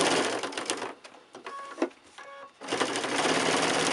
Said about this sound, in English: My machine's not stitching really beautifully.